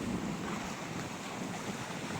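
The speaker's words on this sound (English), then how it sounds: "You hear all the noise, the water bashing against the rocks." Storm waves and strong wind batter the rocky shoreline of Canada's outer coast, a continuous loud roar of surf and gusting wind noise with no pauses and no voices.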